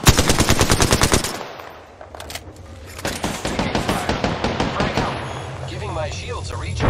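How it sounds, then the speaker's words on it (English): Apex Legends gunfire, with loud rapid automatic bursts at the start, a brief lull, then another sustained volley of rhythmic shots, and a voice speaking briefly in the middle. "They're shooting at me."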